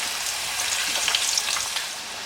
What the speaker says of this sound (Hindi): आलू के पीसेस डालेंगे और आपने इनको फ्राई होने देना है